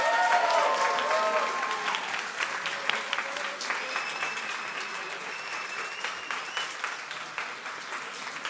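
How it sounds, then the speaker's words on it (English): A crowd at a startup event claps enthusiastically for the top 10, the applause starting loud then thinning to scattered clapping, with a few voices and cheers mixed in. "A round of applause for the top 10."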